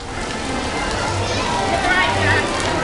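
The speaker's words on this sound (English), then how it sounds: "It's currently pouring, so we're hiding out until the rain stops" Heavy rain pours steadily under a breezeway at a theme park, a dense, loud hiss of water on surfaces with faint background voices mixed in.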